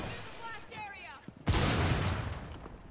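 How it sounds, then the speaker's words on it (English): A sharp blast goes off in Rainbow Six Siege, a sudden loud boom that rings on and decays, coming after a stretch of voices talking and clattering game sounds. "I didn't think the explosion would go outward."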